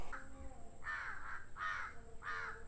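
Crows caw noisily in a mangrove forest at Azheekal, three loud harsh caws in a steady rhythm after a fainter one, over a hushed outdoor background.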